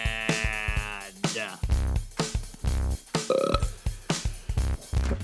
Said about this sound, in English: You began it with a burp and you ended it with a burp.